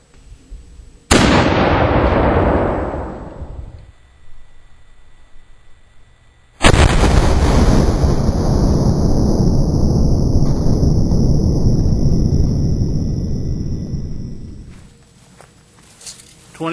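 A short-barreled howitzer firing a 6-pound round zinc ball on a 3-ounce charge of triple FG black powder: a loud, booming report whose roar rings out and decays slowly, preceded by a shorter earlier blast.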